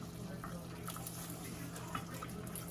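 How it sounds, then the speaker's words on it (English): Milk being poured and stirred into a white sauce for fish fillets, a soft steady liquid wash with faint sloshing and occasional light clicks of a utensil, under a low hum with a voice faintly present. "Now I got a couple of cups of milk here I'm gonna stir in."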